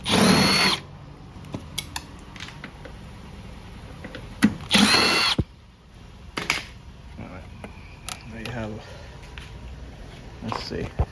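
Close, loud bursts of a power drill whir as screws are removed from an LG washing machine, two long runs with a shorter one between, with someone speaking during the quieter stretches and some clanking handling noises.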